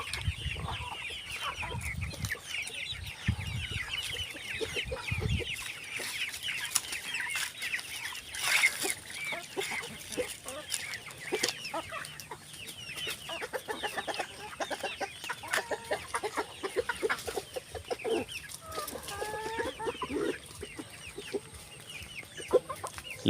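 Rhode Island chickens cluck and chatter in a poultry pen, a steady mix of overlapping clucks and short calls from several birds, moderately near, with no talk over them.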